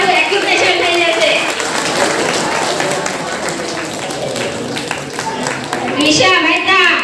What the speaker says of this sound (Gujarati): આની અંદર તાળીઓ તો આપણે વગાડો ભાઈ